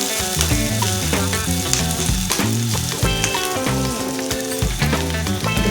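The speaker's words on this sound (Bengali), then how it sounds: "এবার দিয়ে দিচ্ছি সেদ্ধ করা রসুন এবং আদা। 1 মিনিটের জন্য একটু ভেজে নিচ্ছি।" Boiled garlic and ginger fry in a hot pan with a dense, continuous sizzle and crackle, loud and close, while steady background music plays.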